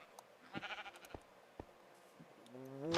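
Sheep bleating in the Minecraft video game, a few short bleats followed by a longer, louder wavering bleat at the end, with no talk.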